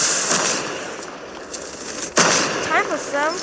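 Gunfire in the video game Call of Duty, a sharp close shot and crackling bursts under game effects, with players talking over the action.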